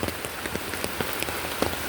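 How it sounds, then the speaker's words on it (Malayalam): Heavy rain pounding on surfaces close by, a dense, continuous patter with scattered louder drops over a steady wash; no voices. "നല്ല മഴയുണ്ട്, അതിൻ്റെ ഒരു ശബ്ദം കാരണം ഒന്നും കേൾക്കാൻ പറ്റത്തില്ല"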